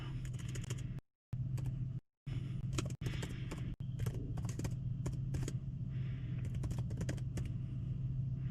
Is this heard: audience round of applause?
no